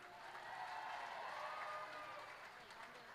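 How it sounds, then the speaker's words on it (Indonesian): Applause from a crowd at the official opening of the GAMKI 2023 national working meeting (Rakernas), a steady wash of clapping that swells slightly and holds throughout. "Mari kita beri tepuk tangan yang meriah"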